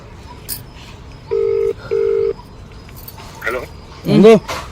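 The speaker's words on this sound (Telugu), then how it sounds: "రింగ్ అవుతుంది, రింగ్ అవుతుంది." Two steady electronic ringback tones sound in succession, each lasting under half a second, followed by voices and a brief dog-like whine.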